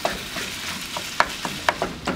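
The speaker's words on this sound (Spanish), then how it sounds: "Vamos a machacar bien la carnita para que nos quede bien suelta." Ground meat with garlic paste being mashed and stirred in a hot pan, soft scraping and stirring with faint sizzling and a few sharp utensil clicks against the pan.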